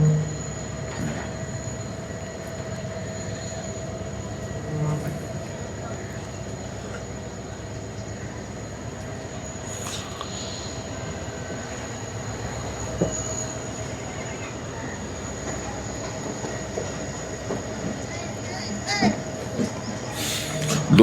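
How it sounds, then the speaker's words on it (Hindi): A passenger train pulls out of Rahim Yar Khan railway station, heard from inside as a continuous rumble of rolling wagons with faint wheel squeals and occasional clanks and knocks. "रहीम यार ख़ान रेलवे स्टेशन से मूव होना शुरू कर दिया ट्रेन ने।"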